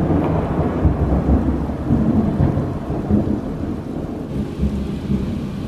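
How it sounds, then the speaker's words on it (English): Heavy rain pours down continuously while deep thunder rumbles and rolls loudly underneath. "I think it's going to start pouring. Lord and behold, it started pouring."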